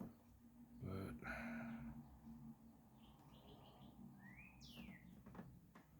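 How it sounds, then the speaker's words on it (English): Birds call and chirp outdoors through open windows on a warm day in Ohio, with short whistled chirps and a rising sweep, light and somewhat distant, after a brief burst of other noise near the start. "I have the windows open, so you're going to hear a lot of birds"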